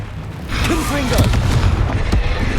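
A Confringo blasting spell explodes in the Hogwarts Legacy video game, a loud booming blast and rumble that swells and rolls on through the rest, with a voice speaking over it.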